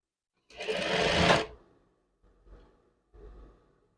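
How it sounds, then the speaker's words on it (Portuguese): Sewing machine running a seam along the shoulder of a men's chef jacket, one loud sustained burst of stitching followed by two short, quieter runs close by. "eu só passo a costura aqui em cima."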